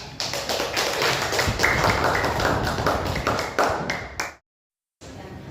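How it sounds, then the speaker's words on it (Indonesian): Classroom applause from students, a dense burst of many hands clapping close and loud for about four seconds before stopping abruptly. "Oke, kita kasih aplaus."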